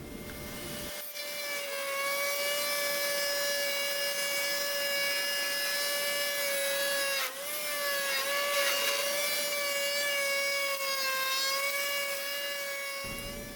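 A router cuts along the edges of a wooden zero clearance insert for a miter saw, a loud steady high whine with stacked tones that runs continuously for about twelve seconds, dipping briefly once midway, with no talking.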